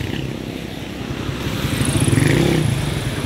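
A Suzuki Rider 150 motorcycle with a fault that leaves it lacking pull, its engine running close by with a steady, buzzy idle that swells slightly as it revs.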